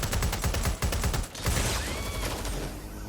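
Gunfire in the Watch Dogs: Legion video game plays as a dense, loud stream of rapid shots in the first half. It breaks briefly, picks up again, then gives way to softer game noise toward the end.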